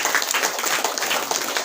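Church congregation clapping together during a Saturday worship meeting, a dense steady wash of many hands close by with no gaps, filling the space throughout.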